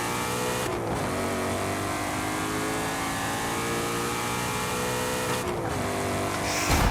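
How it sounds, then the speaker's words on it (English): A Ford Mustang GT350R V8 in Forza Horizon 5 roars steadily and loud, holding high revs with two brief shifts, racing-game engine sound with no talk over it. "Beautiful sounding V8 too."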